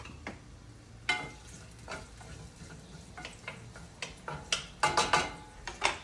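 Shallots softening in a hot pan for rice pilaf give a low, steady sizzle, broken by sharp scrapes and taps of a utensil stirring against the pan that cluster toward the end, close and fairly quiet, with no voices.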